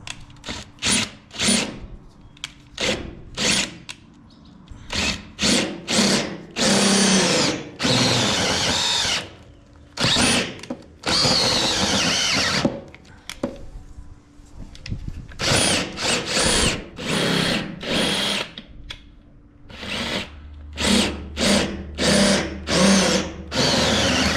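Power drill with a bit fitted into a square shank, used to release the air from a tire on a 1946 Ford. It whirs in repeated short, loud bursts broken by brief pauses across the clip, with no talk.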